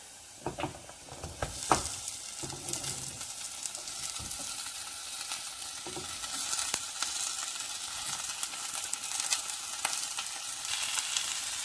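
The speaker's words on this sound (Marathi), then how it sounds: "त्यामध्ये मी कांदा ॲड करते आणि कांदा आपण हलकासा फ्राय करून घेऊया तेलात" Sliced onions frying lightly in oil for a prawn biryani, giving a steady close sizzle with occasional sharper crackles and stirring clicks, no voices.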